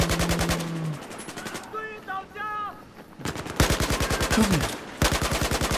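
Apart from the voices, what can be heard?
gunfire in the video game Battlefield 4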